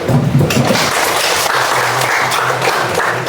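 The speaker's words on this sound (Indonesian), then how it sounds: "Beri dulu aplaus." Classroom audience applauds a student group after its presentation, a dense burst of many hands clapping that fills the short moment at close range.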